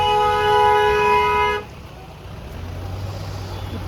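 Vehicle horns honk in a traffic jam on a mountain road near the India-China border in Sikkim, a steady layered blare lasting about a second and a half before cutting off, leaving low engine rumble and road noise.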